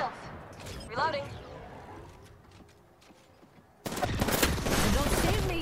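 Rapid gunfire in the Apex Legends battle royale game on the Broken Moon map, bursts under a speaking voice that turn into a loud, dense, sustained fusillade near the end.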